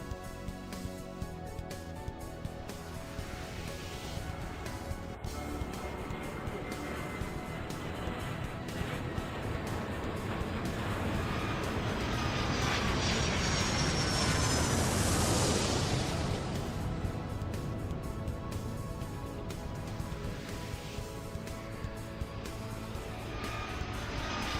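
An airplane taking off on a runway in the airport video game Airport Madness 3, a loud continuous jet roar that swells to a peak midway and then eases, with no talking.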